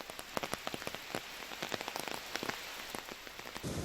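Heavy monsoon rain in the Western Ghats pours steadily onto surfaces, a dense continuous hiss dotted with sharp drop impacts, with no voices.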